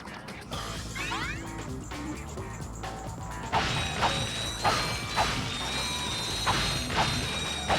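Mechanical clanks, ratchet-like whirs and metallic crashes from Clank's code bot unlocking a lock in the Ratchet & Clank game, followed by a run of bright, rhythmic chimes and thumps over steady game music.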